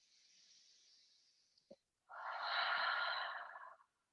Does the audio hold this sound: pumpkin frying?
no